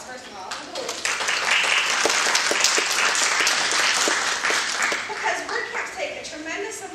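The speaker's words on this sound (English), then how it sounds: "Those people deserve a round of applause, first of all." An audience at a WordPress conference applauds the volunteers with loud, dense clapping that swells quickly and holds steady for several seconds before easing off slightly.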